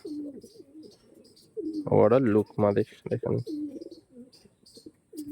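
Pigeons coo in soft, repeated low murmuring calls close by, with someone talking loudly over them in the middle.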